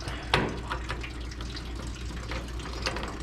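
Coolant splashing and trickling from the opened drain plug of a car radiator during an engine removal, a steady close pour with a few sharper splashes.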